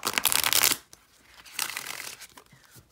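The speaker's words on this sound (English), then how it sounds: "It does, however, riffle shuffle beautifully." A deck of matte playing cards is riffle shuffled twice up close, each time a dense, crisp flutter of cards lasting under a second, with a quiet gap between the two riffles.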